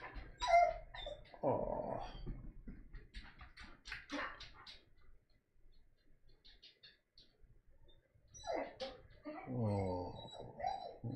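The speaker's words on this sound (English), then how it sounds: "my dog, when I left, was whining" Dog whimpering and whining in short bursts near the start and again toward the end, with quieter, sparse noises between and a brief spoken exclamation.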